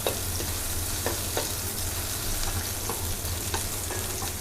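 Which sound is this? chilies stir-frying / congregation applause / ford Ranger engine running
chilies stir-frying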